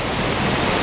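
Steady broadband rush of the Batulantang village waterfall, a continuous close roar of falling water with no voices.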